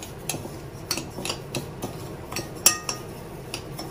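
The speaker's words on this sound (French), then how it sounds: "Je vais mélanger avec cette petite huile d'olive là." Couscous is mixed with olive oil in a bowl, giving a series of close, light clinks and scrapes of a utensil against the dish in an uneven rhythm, with no voices.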